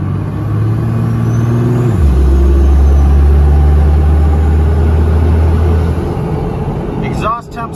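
Compound-turbo 12-valve farm truck pulling hard on the road, a loud steady low diesel drone that drops in pitch partway through as it shifts, staying close and strong before easing off near the end.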